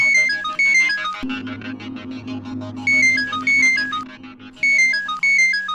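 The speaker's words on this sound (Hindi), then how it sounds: "इसका फोन आ गया।" A phone ringtone plays a repeating melodic tune, loud and close, with a brief gap before the ringing resumes in steady bursts.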